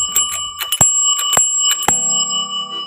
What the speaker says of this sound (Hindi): तू घंटी बजाए खूब बढ़िया से